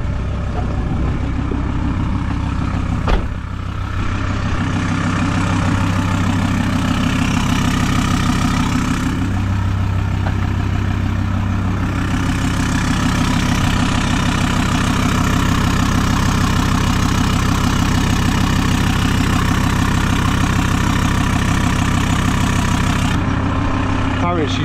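An old banger car engine idles steadily just after starting, a loud, even low rumble with a constant throb that runs throughout, broken only by a brief knock early on.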